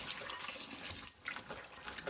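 Shishito peppers are swished around in a bowl of water with grapefruit seed extract, giving a soft, continuous sloshing and splashing close by with a brief lull midway.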